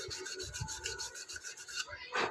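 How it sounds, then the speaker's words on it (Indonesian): A Honda CBR150R motorcycle headlight part is sanded by hand with sandpaper, quiet, rhythmic back-and-forth rubbing strokes with no talking. "Agak kita amplas dulu untuk bagian sininya"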